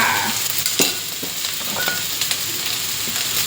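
Holy basil pork and shrimp fried rice is stir-fried in a pan, a loud continuous sizzle broken by sharp scraping clicks of a spatula against the pan, with no talking.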